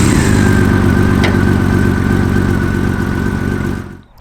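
A six-cylinder touring motorcycle engine runs loud and close with a steady, smooth hum and faint whine, holding an even idle before cutting off abruptly at the end, with no voices.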